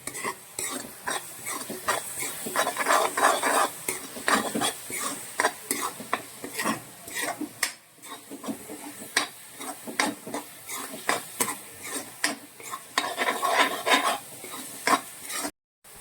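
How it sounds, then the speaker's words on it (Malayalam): Grated coconut and jaggery are sautéed in a pan for a Kerala sadya sweet curry: a soft sizzle runs under repeated scraping and stirring strokes of a spoon against the pan, close by, with brief pauses. "തേങ്ങയും ശർക്കരയും എല്ലാം കൂടി നമുക്ക് നന്നായിട്ട് വഴറ്റിയെടുക്കാം"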